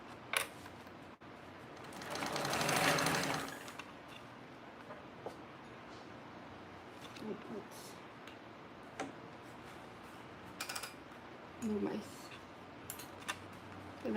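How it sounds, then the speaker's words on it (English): A sewing machine with a walking foot back stitches in a short, loud whirring run, followed by scattered soft clicks and ticks in a quiet room. "holding my threads, back stitching"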